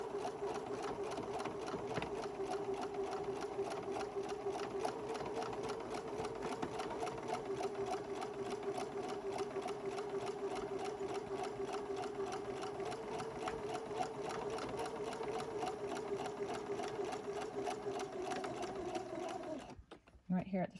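A sewing machine runs steadily for a long stretch while stitching a newborn-sized elf hat, a close, even mechanical whir with rapid needle ticking that halts abruptly near the end.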